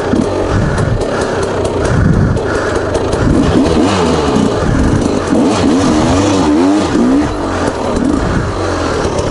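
A 300cc two-stroke motorcycle rides and revs loudly and close, its engine note rising and falling in repeated swells with no talking over it.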